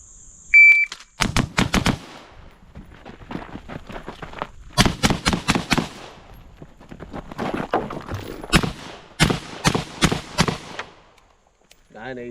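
An 11.5-inch AR15 rifle fires rapid strings of sharp, loud gunshots in several quick bursts separated by brief pauses, outdoors.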